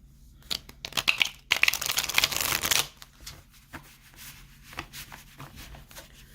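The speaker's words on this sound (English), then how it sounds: "Want to make sure our cards are shuffled" A deck of cards is shuffled up close, with a burst of rapid riffling and crinkling followed by softer intermittent taps and slides as the cards settle.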